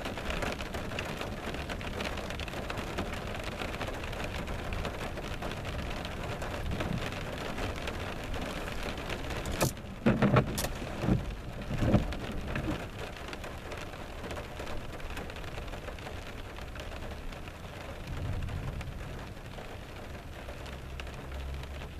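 Steady thunderstorm rain pours onto a parking lot, a dense even hiss with a few sharper bursts near the middle and a passing car rumble late on, heard close with no talking.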